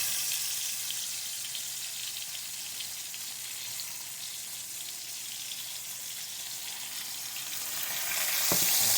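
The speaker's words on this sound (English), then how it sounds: "I'm going to try to sear each side pretty good." A roast sears in a hot pan, giving a steady, close, broadband sizzle that holds for the whole stretch and swells louder near the end, with no talking over it.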